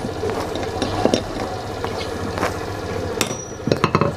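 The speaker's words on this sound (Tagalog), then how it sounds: "Pukin lang po natin ng ganyan gamit ang shafting at saka martilyo." A hammer pounds stiff, seized pliers against a steel shaft in a workshop: repeated metallic blows, some sharp and clinking, scattered irregularly over steady background noise, with a quick flurry of strikes near the end.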